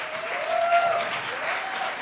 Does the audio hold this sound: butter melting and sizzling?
no